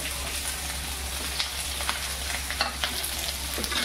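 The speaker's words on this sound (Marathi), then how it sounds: "यात आपण याच्यात शिमला टाकायचं" Chopped capsicum tossed into a pan of frying onions for a soya chap curry, a continuous close sizzle with scattered light stirring clicks and spatters, no voices.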